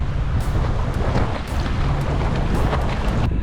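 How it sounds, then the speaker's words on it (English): Strong wind on a kiteboarding beach buffets the microphone in a loud, continuous roar with gusty swells and no voices. "The wind is strong, we're so lucky."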